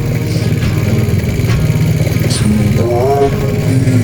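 A motorcycle engine idles loudly and steadily up close, with a brief rise in pitch partway through.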